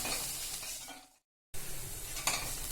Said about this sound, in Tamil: இந்த மாதிரி வதக்கிக்கலாங்க.